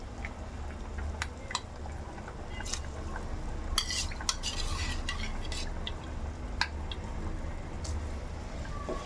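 Rice being stirred into water in a pot for vegetable pulao: soft scraping and sloshing with scattered light clinks of a spoon on metal, quiet and continuous, no voices.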